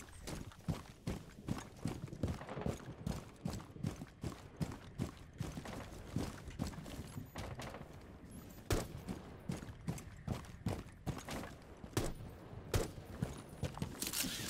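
Rapid gunfire in a tactical shooter video game, loud and close, with irregular bursts and single sharp cracks repeating for about fifteen seconds over a busy background of footsteps and movement.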